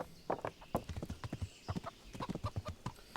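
Rapid, rhythmic clip-clop of horse hooves at a steady gallop in the video game Kingdom Come, close and fairly quiet, with no other sounds.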